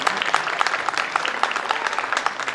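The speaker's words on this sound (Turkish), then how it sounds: "solistlerimize büyük bir alkış istiyoruz efendim" Applause from the audience at a traditional Eyvan concert of a Diyarbakır music association, given for the instrumentalists and singers. Dense, steady clapping from a crowd fills the clip, close and fairly loud, with no talk over it.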